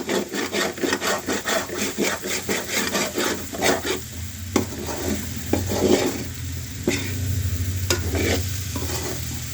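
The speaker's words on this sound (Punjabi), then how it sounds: "ਚੰਗੀ ਤਰ੍ਹਾਂ ਮਿਕਸ ਕਰ ਲਓ ਮਸਾਲਾ" Fried finger potatoes with masala are stirred in a pan. Rhythmic scraping strokes come first, then a steady sizzle with occasional sharp clacks of the spoon, all close and loud.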